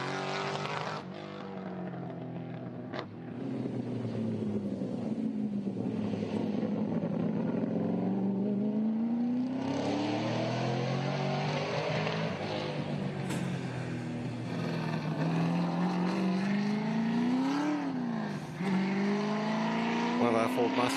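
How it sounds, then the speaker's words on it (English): A JMC Performance XYGT sprint car smokes its tyres at a Leyburn sprint event and pulls away loudly, engine note rising and falling through gear changes under continuous commentary. "Jamie Chan has just turned some tyres into smoke, leaving the line in the JMC Performance XYGT"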